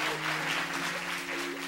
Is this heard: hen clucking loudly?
no